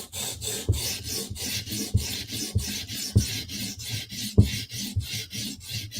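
A knife edge is drawn along a sharpener in about five even, rhythmic rasping passes, each a short scraping stroke heard close up with no talking.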